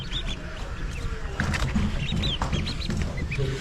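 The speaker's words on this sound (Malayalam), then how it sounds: "താറാവ് കുഞ്ഞുങ്ങൾ വിരിഞ്ഞിറങ്ങേണ്ടത് എല്ലാം പ്യുവർ കുട്ടനാടൻ താറാവാണ് കേട്ടോ" Many high, thin peeps from newly hatched ducklings, overlapping in short repeated calls over a low background rumble.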